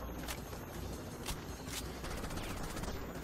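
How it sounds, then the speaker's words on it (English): Rapid gunfire bursts in the shooter game Rainbow Six Vegas 2, sharp cracks crackling steadily over a dense noisy battlefield wash for the whole stretch, no voices. "We're being shot at."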